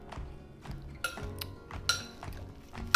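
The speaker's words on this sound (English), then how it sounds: "Stir everything together." A utensil stirring salad dressing in a bowl, with soft, rhythmic scraping and several bright clinks of metal against the dish, close and fairly quiet.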